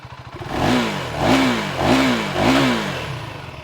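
KTM 390 Enduro R single-cylinder motorcycle engine held at medium revs, a steady throbbing drone that swells in four repeated rev blips, close and loud with no talk.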